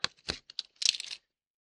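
Small plastic craft eyes rattle and tumble together in bursts, a dry patter of clicks like light rain, loud and close, then falling silent.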